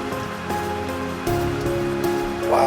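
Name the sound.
heavy monsoon-like rain outside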